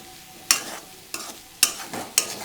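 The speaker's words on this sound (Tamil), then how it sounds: "இது கொஞ்ச நாள் வதங்கட்டும்." A ground curry leaf and coriander paste sautéing in a pan, with four distinct scraping stir strokes over a low background sizzle, close up and without speech.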